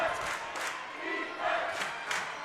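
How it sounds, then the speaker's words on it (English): Crowd noise at a girls high school basketball game at Eau Claire Memorial against Menomonie, a steady roar of cheering and yelling swelling in waves with a few sharper shouts. "Crowd really getting into it here at Eau Claire Memorial"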